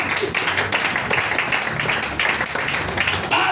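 A church congregation applauding, dense continuous clapping at a steady level throughout, with voices mixed into the crowd noise.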